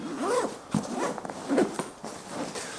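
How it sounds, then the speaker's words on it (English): A camera bag's zipper is drawn closed in several quick, raspy pulls, close and fairly quiet, with no talking over it. "and you zip it"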